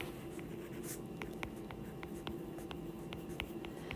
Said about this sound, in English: So I'll write 1